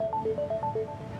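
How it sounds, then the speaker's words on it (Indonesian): A mobile phone ringtone plays a repeating, bouncy melody of short electronic notes, clear and close over a faint background murmur. "HP kamu dari tadi bunyi terus nggak diangkat-angkat."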